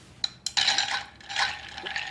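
Ice is stirred with gin in a glass mixing glass to make a Bombay Sapphire dry martini. A few sharp clinks give way to a swirling, rattling chime of cubes against glass, close and moderately loud.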